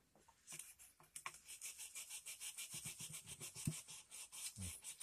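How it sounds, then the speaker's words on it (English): Sandpaper rubbed back and forth over the rail of O gauge model train track, a quiet, steady run of rasping strokes in a quick, even rhythm with no talking. "Now you might even have to use some sandpaper depending on how the track looks."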